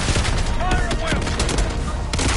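Rapid gunfire fills a Call of Duty: Black Ops 6 battle, loud dense bursts of shots layered with whooshing effects and sustained combat noise from start to finish.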